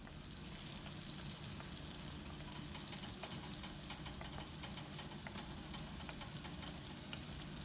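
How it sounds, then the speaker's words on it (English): Squash pieces frying in a pan of heated oil, giving a steady, dense sizzle with faint crackles and pops that holds at an even level throughout, close by and with no talking. "throw them into your pan of heated oil."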